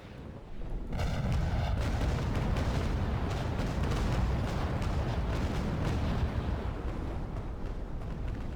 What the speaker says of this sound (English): just waiting for the cannon fire to go away there